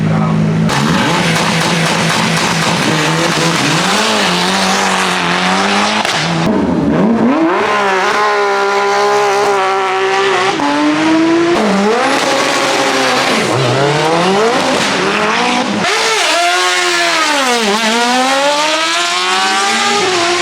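A hill-climb race car's high-pitched motorcycle engine screams loudly, revving up and down through repeated gear shifts, close and continuous throughout, at the Gorjanci hill climb race.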